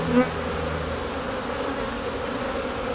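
Honeybees buzz close up in a steady, dense drone during a beehive inspection, with no voices over the hum.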